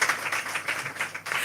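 Audience applause for the presenters at a conference session, a steady dense patter of many hands clapping at moderate distance, with no voices over it.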